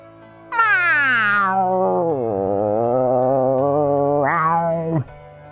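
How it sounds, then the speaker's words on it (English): A hungry cartoon snail gives a long, drawn-out cat-like meow, falling in pitch then wavering before a short rising upturn at the end, loud and close with nothing else around it. "He would lift himself up and show his empty stomach to SpongeBob before mewing with malnourishment."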